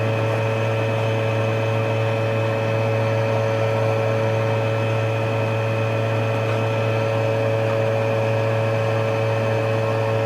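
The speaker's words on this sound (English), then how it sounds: "From the sound of the blower on my fume hood, it sounds like it's not going to last much longer" Worn blower fan on a laboratory fume hood running steadily, a loud constant hum with strong tonal whine and broadband rushing air, unchanging and alone with no talk.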